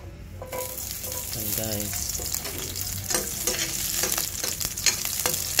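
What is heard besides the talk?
garlic sautéing and being stirred in a pan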